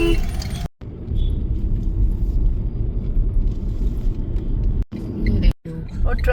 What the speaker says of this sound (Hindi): और ट्रैफिक इतना ज़्यादा